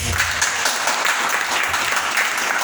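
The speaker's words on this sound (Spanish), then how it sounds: "Dale una ofrenda de aplauso al Señor." A church congregation claps together in a dense, even burst during a worship service, lasting under three seconds.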